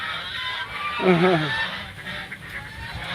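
A goose gives one loud honk near the middle over steady background noise, with a voice around it.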